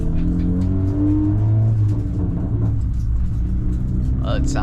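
Honda car with a straight titanium exhaust pipe, a steady deep rumble and drone from inside the cabin, loud and continuous, with people talking over it.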